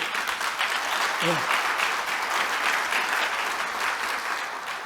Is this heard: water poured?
no